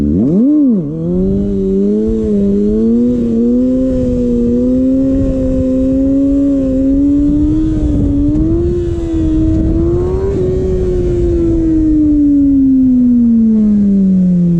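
A Kawasaki ZX6R motorcycle engine holds a loud, sustained high idle during wheelies, its steady droning pitch slowly rising and falling close by with no talk.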